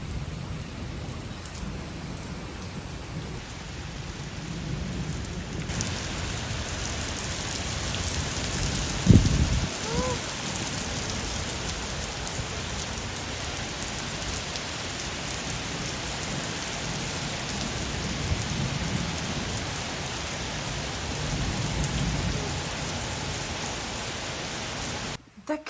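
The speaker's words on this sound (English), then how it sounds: "the garden needed this rain" Steady rain pours down over a garden at an Italian villa, a dense continuous hiss lasting throughout with a brief low rumble partway through, fairly loud and close with no voices over it.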